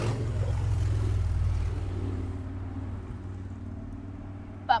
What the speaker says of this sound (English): That motorbike can be as loud as he wants